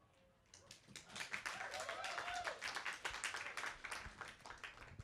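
An audience claps during a storytelling event, the applause starting after a quiet moment and building into a steady, moderately loud patter of many hands, with some faint murmuring beneath.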